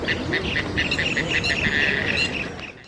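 A dense mix of many birds in a dawn chorus calling and chirping at once, a busy continuous chorus with overlapping tweets and quacking-like calls.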